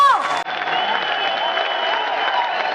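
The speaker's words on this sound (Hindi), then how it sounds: "ये तालियों की गड़गड़ाहट" Audience applause at a corporate event welcoming the company's CEO and MD, a sustained wash of clapping heard through muffled, band-limited sound, with a steady tone and amplified voice over it.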